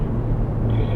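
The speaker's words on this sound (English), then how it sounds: "Do you hear that turbocharger spooling up?" A Hyundai Veloster N with an 8-speed DCT on a racetrack gives a dense, close engine rumble, and a thin rising turbo whine emerges over it in the second half of a brief burst.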